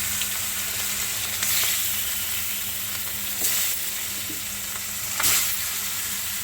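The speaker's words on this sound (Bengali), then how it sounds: "আমি এখন মাছ ভাজবো" Bhangon fish fry in a pan with a steady, loud sizzle and crackle, broken by a few brief bursts of stronger spitting as the pieces are stirred, with no talking.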